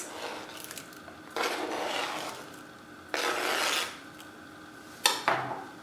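Chopped apples are folded into pancake batter with slow scraping and rubbing strokes against a bowl, three longer passes and a final short clink, close and moderately quiet.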